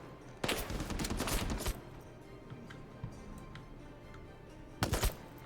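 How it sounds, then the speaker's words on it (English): Rapid bursts of gunfire in the war video game Call to Arms, a long sustained volley near the start and a shorter burst near the end, with scattered faint shots between and no talking. "see if I can get couple of cheeky shots in"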